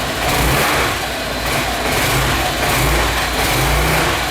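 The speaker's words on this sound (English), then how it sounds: "I'm going to show you what it sounds like. So when I go to hit the gas," A 250cc Apollo SL250-2 scooter engine close by, bogging on take-off, revving unevenly as the throttle is opened, sputtering and dipping before picking up again.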